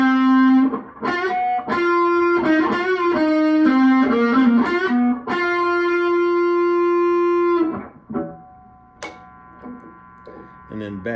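A Fender Telecaster American Professional II plays a harder rock riff through its humbucker, giving loud, distorted sustained notes and chugging stabs that ring out, followed by a quieter passage of lighter picked notes.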